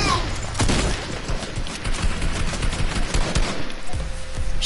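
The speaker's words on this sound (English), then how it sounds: "Shooting everything." Dense, rapid gunfire from a shooter video game, bursts and single shots overlapping in a loud continuous fusillade with booming low hits throughout.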